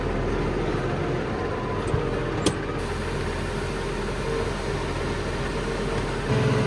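Grain elevators and conveyors on a combine harvester run empty during harvest, giving a steady, unbroken mechanical drone with a faint click or two, close and constant throughout.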